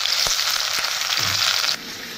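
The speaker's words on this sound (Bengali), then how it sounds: "কয়েকটা দিয়ে ভেজে নিয়ে তারপরে নামিয়ে নেব।" Taro pieces coated in gram flour batter frying in hot oil, with a dense, bright, continuous sizzle and a couple of short taps before the hiss suddenly drops lower near the end.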